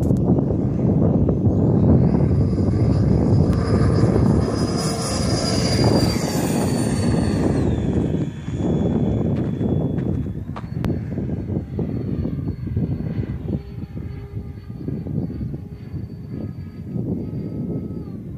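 Byron F-15 electric ducted-fan model jet flying on its second flight, a loud continuous high whine and rushing roar that holds steady then shifts pitch as the aircraft passes overhead, with no talk.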